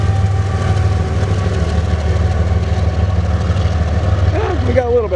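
A BNSF ES44AC diesel locomotive, number 5868, rumbles past eastbound in Spokane Valley, Washington, a loud, continuous low engine roar with rail noise close by, and a voice comes in briefly near the end.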